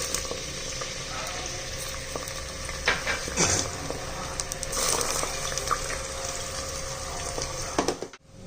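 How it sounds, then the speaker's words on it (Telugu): Two large, finely chopped onions fry in hot oil and ghee for a Nellore-style head meat curry, giving a steady, close sizzle with occasional stirring scrapes and clinks. "ఈ విధంగా ఉల్లిపాయలు వేగుతూ ఉన్నాయి కదా"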